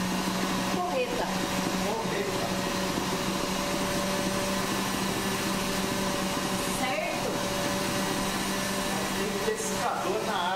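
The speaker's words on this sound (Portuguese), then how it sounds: "Vou bater até ficar fofinho. Que é bem rápido, na verdade, porque essa batedeira é" An electric stand mixer beats four eggs with sugar, giving a steady, loud motor whir that runs without a break while voices talk over it.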